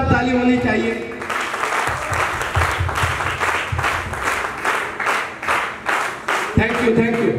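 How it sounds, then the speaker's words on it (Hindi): At a direct selling leadership event, an audience breaks into strong applause that swells and pulses in rhythmic waves, with someone speaking over it at the start and again at the end. "उनके लिए भी एक जोरदार ताली होनी चाहिए"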